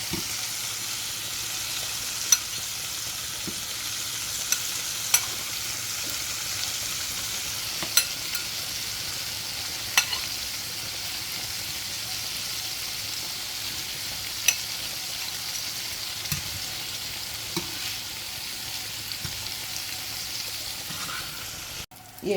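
Shrimp for rasta pasta fry in a pot on the stove with a steady, even sizzle, broken by occasional faint clinks and stirring scrapes, and no voices.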